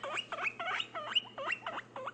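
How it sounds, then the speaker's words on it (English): A baby guinea pig makes a quick run of high, repeated squeaks and chirps in an even rhythm, close and moderately loud, with no other sounds. "Baby guinea pig."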